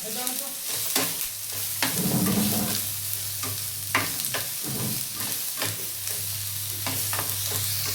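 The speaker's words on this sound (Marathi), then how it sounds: "ते पण चांगलं तेलामध्ये भाजून घेऊया ह्याच्याबरोबरच" Ginger and garlic roasting in oil for chole bhaji, a steady close sizzle with repeated scraping strokes of a stirring spoon against the pan, no talk.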